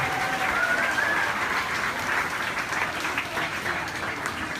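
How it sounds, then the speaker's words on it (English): Theme park audience applauding during the Harbor Attack tank pre-show on the Hollywood Studios backlot tour, a dense steady round of clapping that fills the space, with a brief whistle-like tone early on. "let's give Alex a big round of applause, everybody."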